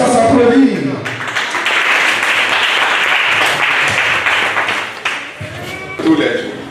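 Congregation applause at a prayer gathering, a dense sustained clapping that follows a brief voice at the start and fades near the end as speech returns.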